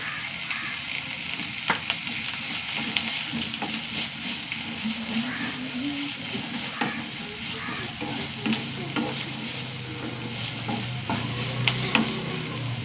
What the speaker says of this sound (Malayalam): സവാള നന്നായി വഴണ്ട് വരണം.